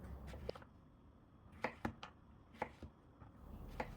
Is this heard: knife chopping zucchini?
yes